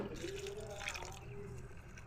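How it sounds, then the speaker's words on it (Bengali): Cut yardlong beans are swished and rinsed by hand in a bowl of water, giving soft continuous sloshing and trickling close by, with a voice talking over it. "এরপরে জল পাল্টিয়ে দুই থেকে তিনবার ভালোভাবে ধুয়ে নিতে হবে"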